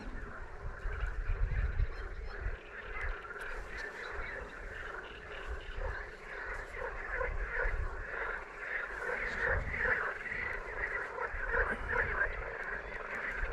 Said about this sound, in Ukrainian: Жаби кумкають.